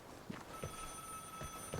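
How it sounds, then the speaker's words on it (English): Phone ringing inside the video game Vigor, a repeated electronic ring with a steady tone, heard in short regular bursts against a quiet background with no talking. "you hear how quiet it is besides that annoying ass phone going off?"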